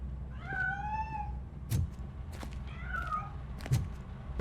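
A cat meows in the video game RoboCop Rogue City, two drawn-out rising-and-falling meows about a second apart, fairly clear over a low steady background hum with a few soft knocks.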